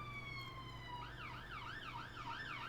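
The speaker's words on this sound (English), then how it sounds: "That's a siren in the background." An emergency vehicle siren wails in the background, a steady tone that shifts into a rising and falling yelp, faint and distant over a constant low hum.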